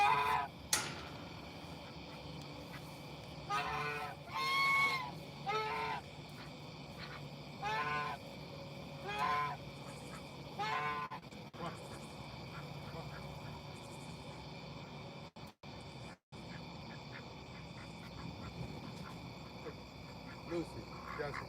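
Backyard poultry at feeding time: ducks, geese, chickens and turkeys calling in short bursts of quacks and honks during the first half, then quieter milling about with faint background noise and a few brief dropouts.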